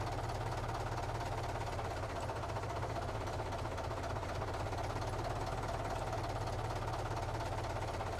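A tractor engine in Farming Simulator 22 runs steadily with a low, knocking diesel throb, continuous and even throughout, with no voices.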